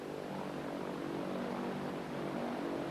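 A propeller airplane in flight, heard from inside the cabin as a constant, loud engine drone with a steady low throb and no pauses.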